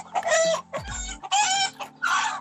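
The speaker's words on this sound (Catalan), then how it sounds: "Els deixo donant menjar a les gallines." Hens at a rural farm in Catalonia cluck and squawk while being fed, in several loud, close bursts separated by short pauses.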